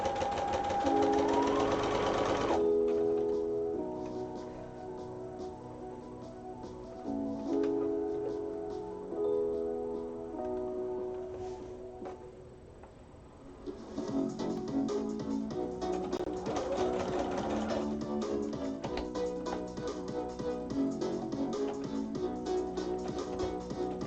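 A sewing machine runs at moderate volume, whirring and ticking in stretches that pause and restart, with a faint melodic tone underneath.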